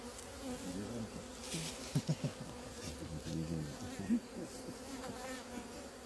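Honey bees at an open hive being moved to another box, a dense close buzzing drone with individual bees zipping past near the ear, quiet overall, with no talk over it.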